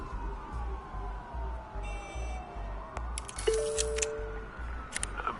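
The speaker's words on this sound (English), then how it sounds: "There are quite a few police cars convening on your location." Police car sirens in the Batman Telltale game, Episode 2 "Children of Arkham": gliding wailing tones over a low steady rumble, with brief buzzing electronic bursts, moderately loud and without talk.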